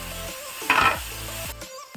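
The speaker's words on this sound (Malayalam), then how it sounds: "ഇത്രയും നമുക്കൊന്ന് ഇളക്കി എടുക്കാം." Shredded cabbage and thin strips of carrot frying in a pan are stirred, with a brief burst of sizzle and metallic scraping against a quiet, sparse kitchen background.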